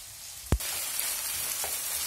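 Minced meat frying in a pan for a kefta and cheese croissant filling, a steady quiet sizzle broken by one sharp clack near the start.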